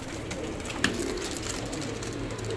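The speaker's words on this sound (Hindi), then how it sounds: "तो ये जनाब जौनसरे कबूतर हैं जी" Johnsiry pigeons in a flock of about twenty in Faisalabad coo softly and intermittently against a low, noisy background, with one brief sharper sound standing out.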